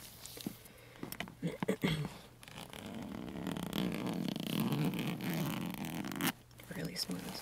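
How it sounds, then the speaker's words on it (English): A zipper on a studded leather purse drawn open in a quiet close-miked setting, a few short taps first, then one long smooth zipping run, ending in soft handling sounds. "Let's open it up and check the zipper."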